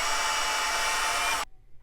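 A power drill bores a small hole through a Subaru door panel, a steady loud whir held for about a second and a half before cutting off abruptly to near silence.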